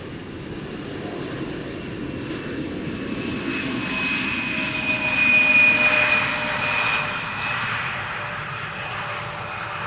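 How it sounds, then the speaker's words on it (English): A large airliner lands at Amsterdam Schiphol Airport, its engine roar steady and loud throughout, swelling to a peak in the middle as it passes close, with a high whine riding over the broad rumble. "It usually passes by the fire station and the control tower before the nose wheel touches down"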